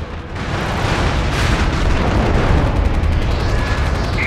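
Bombs exploding in the MAG video game on PlayStation 3, a loud continuous rumble of blasts and battlefield booms filling the whole stretch with no pause.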